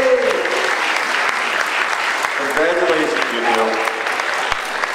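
Convention audience applauding a newly married couple at a furry fan event, steady dense clapping throughout with some voices talking and cheering underneath.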